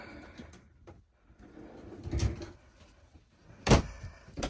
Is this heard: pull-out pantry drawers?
yes